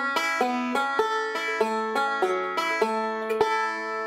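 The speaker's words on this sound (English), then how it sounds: "you could just take out the pull off and play it open." Banjo playing a bluegrass 12-bar blues measure open without the pull-off, about a dozen bright plucked notes in an even rhythm, close and clear with no talk.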